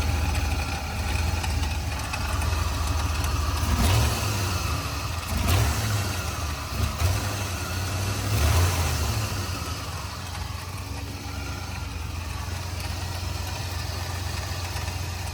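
A flood-damaged 1994 Ford F-350 truck engine starts and settles into a steady, low idling rumble that continues throughout, with a few brief revs early on.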